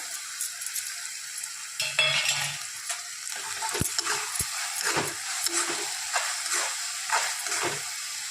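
Dry lentils rattle into a hot frying pan, followed by sizzling with scattered clicks and light scraping.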